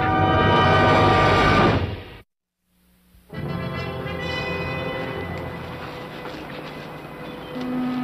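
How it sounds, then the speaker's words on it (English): A train rumbles past close by with a continuous broad roar and a horn tone, cutting off abruptly, then returning after a brief silence, at night in a 1964 wartime combat setting. "I think I heard a train."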